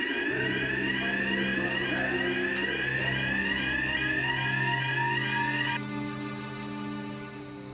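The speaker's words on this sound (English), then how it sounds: "Do you remember how to set the fire alarm?" A fire alarm sounds loudly and steadily, a repeating electronic warble that abruptly changes to a lower, quieter tone near the end, with no talking.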